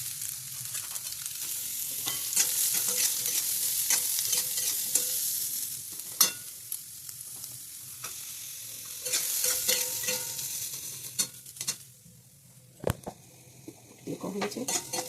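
Carrots stir-fry in a pan with bay leaf, cumin and chili, a soft steady sizzle broken by scrapes and clinks of a utensil against the pan.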